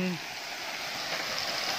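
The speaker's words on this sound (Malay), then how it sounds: "Okey, ini air terjun" A waterfall along the old Gombak–Karak road gives a steady broadband rush of falling water, continuous over a short stretch, with a brief voice at the very start.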